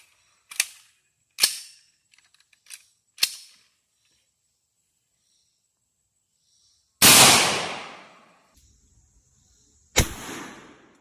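Rifle shots fired using a hex STANAG magazine: two loud, sharp reports with long decaying tails, preceded by several short mechanical clicks and clacks of the rifle being readied.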